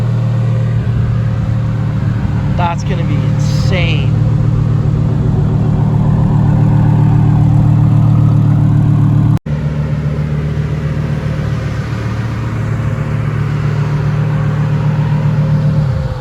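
A twin-turbo Lamborghini Huracan rumbles loud and close, its engine holding a deep, steady drone before a sudden cut and a lower idle that follows; a brief voice speaks over it early on.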